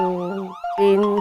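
A wailing emergency siren sounds from a housing society compound, its rising and falling tones cycling steadily, loud and close, with a brief gap midway before it resumes.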